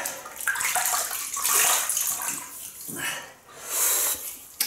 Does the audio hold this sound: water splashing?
yes